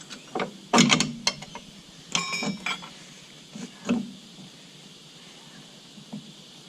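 A ratchet undoes bolts on the steering hub of a Triumph 2500, with short bursts of clicking and metallic clinks spread across a few seconds, close and fairly quiet.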